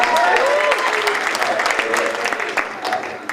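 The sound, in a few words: wedding guests clapping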